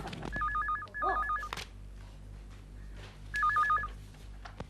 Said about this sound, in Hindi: डैडी, फोन उठाओ।